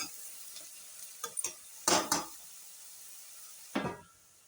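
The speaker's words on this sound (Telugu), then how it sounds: "ఆనియన్స్ని మనం బాగా వేయించుకోవాలండి." Onions frying in a pan, with a faint sizzle under a handful of sharp stirring scrapes and clinks scattered across a few seconds.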